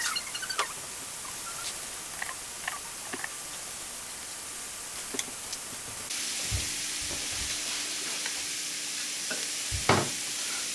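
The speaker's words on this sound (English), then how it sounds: "I use my spatula to kind of break it up" A Japanese omelet fries quietly in a hot pan, with a soft steady sizzle and a few faint scrapes and taps as a spatula breaks it up.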